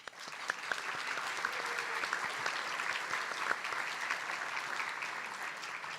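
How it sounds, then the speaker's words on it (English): An audience at a leadership awards event breaks into sustained, even applause, a dense wash of many hands clapping that holds steady throughout, heard from the middle of the hall. "please join me in giving them a warm round of applause"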